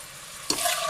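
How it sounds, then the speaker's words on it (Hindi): Sliced ginger and tomatoes hit a hot pan midway, bursting into a loud, bright sizzle with stirring scrapes that continue steadily to the end. "इन दोनों चीज़ों को हम अच्छे से फ्राई करेंगे"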